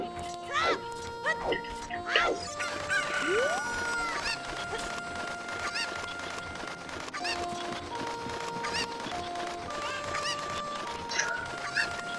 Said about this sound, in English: sometimes I feel like all I do is collect chickens